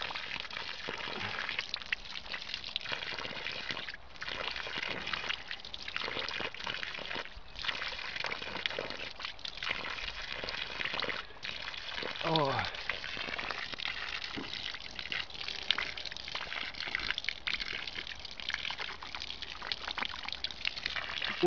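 Water gushes steadily from a newly drilled well, a continuous splashing, trickling flow heard fairly faintly with small knocks and shifts throughout.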